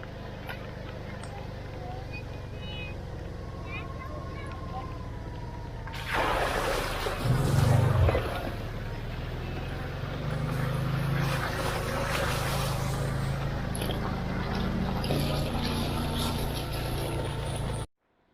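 A Kawasaki Teryx UTV on General Grabber A/TX tires drives off, its engine rumbling up loudly partway through, then settling to a steady drone over rough ground with wind noise.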